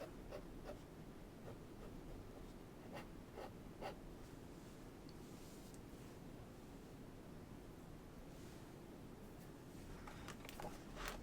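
A fine-nib Kakimori dip pen scratches across paper in faint, close strokes, soft scraping with occasional sharper ticks against a quiet background hiss.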